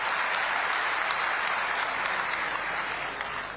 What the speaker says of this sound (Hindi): दोबारा ताली बजा के स्वागत करो